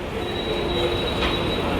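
A local train pulls into platform 2 at Goregaon station in Mumbai, its steel wheels squealing in a steady high-pitched tone over a continuous loud rumble of rolling railcars, heard close with no talk.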